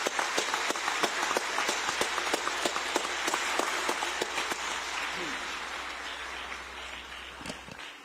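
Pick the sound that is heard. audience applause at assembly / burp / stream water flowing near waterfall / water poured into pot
audience applause at assembly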